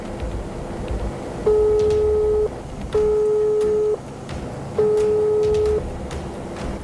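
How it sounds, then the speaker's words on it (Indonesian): An unanswered telephone call to a police public-relations office gives three steady ringback tones of about a second each, spaced evenly and heard clearly through the line. "Tidak ada jawaban, saya coba telepon Humas Polres Cirebon."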